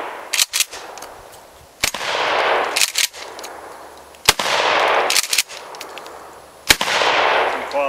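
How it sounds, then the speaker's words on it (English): Gunshots ring out at an outdoor shooting range: sharp, loud single cracks spaced a second or two apart, each followed by a long fading echo. "Some quality shooting here."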